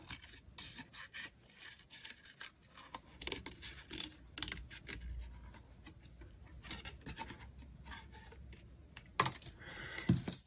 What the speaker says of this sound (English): we're just gonna cut these out with a little bit of a border